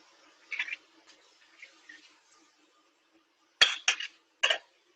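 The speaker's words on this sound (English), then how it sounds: "So you do need to come back and stir this." A few light clinks and scrapes of a utensil against a pot while stirring pastel de choclo filling, in short separate bursts against near silence.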